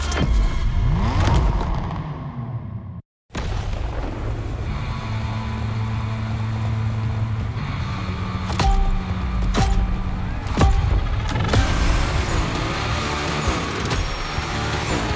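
Car engines rev and roar in The Crew Motorfest racing game, several vehicles accelerating and passing at varying distances, a sudden brief cut to silence, then more engine drones and sharp mechanical hits.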